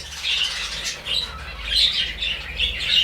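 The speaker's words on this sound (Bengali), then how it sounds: "এটা হলো যে আমার ফিঞ্চ পাখি" Pet finches in a cage, chirping in quick bright bursts that repeat every half second or so, close by and fairly soft, with faint wing flutters and no talking.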